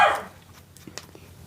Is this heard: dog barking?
yes